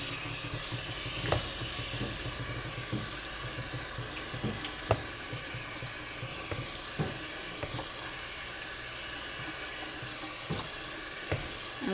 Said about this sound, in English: I'm just gonna run cold water over them.